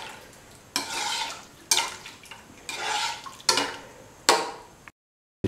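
Parsley chicken stew being stirred in a pot, giving repeated scraping, clinking strokes of a utensil against the metal, about five close, distinct bursts in an uneven rhythm before a short silence.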